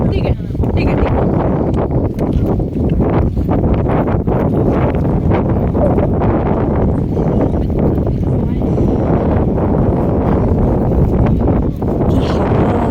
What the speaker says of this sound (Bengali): কি হাওয়া!